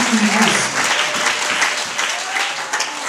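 A church congregation breaks into loud, dense clapping for Jesus, a continuous burst of many hands close up with a voice faintly mixed in.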